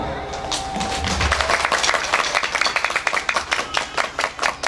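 Audience clapping at a Quran recital event at a TPQ Islamic school, Al-Badrih in Sumberjati Silo, Jember; uneven claps start sparse and build into a rhythmic group clap, with some voices underneath early on.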